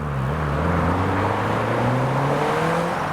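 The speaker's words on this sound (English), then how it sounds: "And here comes the Evo." A Mitsubishi Evo driving past at a car meet, a loud continuous engine drone with rising whirring tones as it accelerates by, close and alone without voices.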